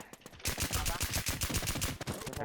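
Rapid automatic gunfire in a shooting video game, a dense burst of loud close shots in fast rhythm after a few scattered opening shots.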